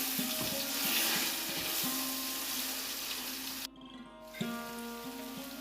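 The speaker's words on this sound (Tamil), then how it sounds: "இஞ்சி பூண்டு வாசனை போகிற வரைக்கும் நல்லா வதக்கணும்." Ginger garlic paste sautés in a pan for chicken biryani, a fairly loud crackling sizzle with repeated scraping strokes, briefly cut off near the end before resuming.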